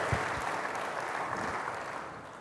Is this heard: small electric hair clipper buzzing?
no